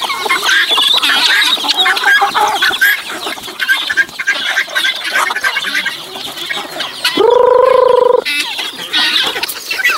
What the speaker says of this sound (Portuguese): Ó, angola brigando com a galinha.